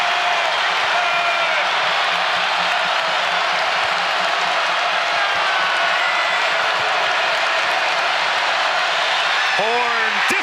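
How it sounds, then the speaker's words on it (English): A home basketball crowd roars for the Virginia Cavaliers' defense late in a close game against NC State: a dense, sustained arena roar with cheering and whoops, and a commentator's voice running over it throughout. "The crowd comes alive to roar on the Cavaliers defense."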